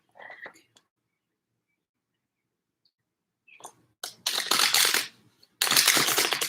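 Tarot cards being shuffled by hand: a short papery flutter, a long pause, then two loud, close riffling bursts of cards.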